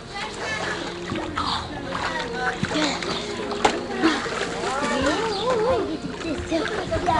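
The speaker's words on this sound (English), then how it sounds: "Let me see you swim." Children swimming and splashing in a backyard pool at a summer party, with irregular splashes and sloshing water under constant overlapping voices and shouting.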